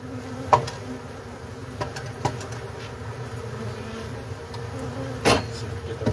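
Bees swarming around a hive being removed from a wine barrel, a constant close buzzing hum with a few sharp knocks and taps breaking through.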